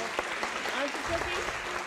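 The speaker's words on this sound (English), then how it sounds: "Give her one more round of applause." An audience at a city council meeting gives a short round of applause for a Black History Month proclamation honoree, a steady patter of clapping with faint voices underneath.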